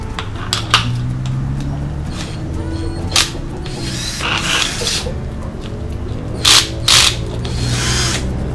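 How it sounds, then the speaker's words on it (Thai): Electric drill spinning a bundled sanding attachment with a sandpaper disc, whirring steadily with rattling metallic clatter and several sharp bursts of louder grinding, close by and alone. "เป็นชุดขัดที่ใช้กับสว่านนะครับ"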